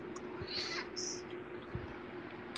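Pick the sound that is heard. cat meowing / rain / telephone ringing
cat meowing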